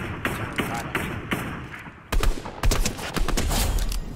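Gunfire in a shooter video game: bursts of sharp, repeated shots, first lighter and then heavier with thumping impacts, mixed with game noise and some talk.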